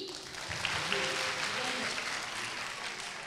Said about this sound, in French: S'il vous plaît, applaudissez très fort pour les accueillir